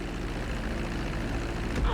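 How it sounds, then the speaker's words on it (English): A steady, droning propeller-plane engine hums as the aircraft taxis along a runway in GTA V, an even mid-level rumble with no change in pitch over the two seconds. "Now let's get the plane off the runway."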